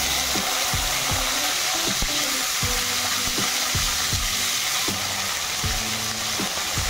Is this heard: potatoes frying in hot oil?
yes